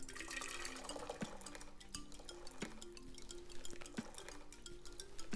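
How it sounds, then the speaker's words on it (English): Boiling water from a kettle is poured into a cooking pot for pasta, a steady rushing splash with occasional metallic clinks against the pot, close and continuous throughout. "I have some boiling water from the kettle,"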